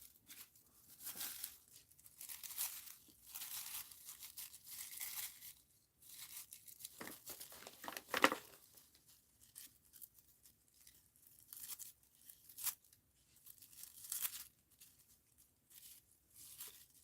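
Paper in a mixed-media art journal being trimmed, heard as quiet, close, intermittent snips and tearing crinkles in short bursts with pauses between, one sharper crunch near the middle.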